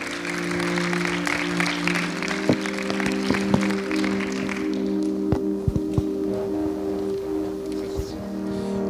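Applause fills a church service for a visiting preacher, a sustained wash of clapping from the congregation with a few sharper taps standing out, while a steady organ or keyboard chord drones underneath.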